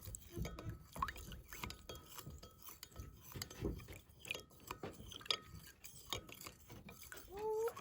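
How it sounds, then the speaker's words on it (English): A spoon stirs fertilizer into cold water, scraping against the container with soft irregular clinks and swishing, faint and close. "I'm going to mix it with the water now"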